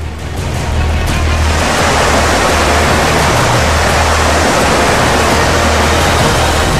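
Loud, continuous roar of surf crashing on a beach on Indonesia's south coast, a dense wash of noise with a low rumble underneath, steady throughout.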